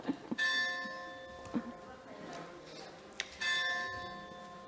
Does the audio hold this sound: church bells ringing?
yes